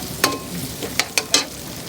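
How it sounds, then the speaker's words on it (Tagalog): Onions for pakbet sautéing in a pan, with a few short sizzling bursts and stirring scrapes over a low frying hiss, close and moderately loud, no talking. "Para maayos ang ating gisa."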